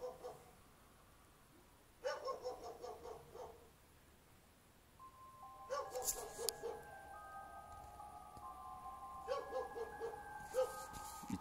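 Several dogs bark in the dark near an abandoned school, in two short bursts a few seconds apart, moderately loud against a quiet background, with a thin high whistle-like tone sounding over the later barks.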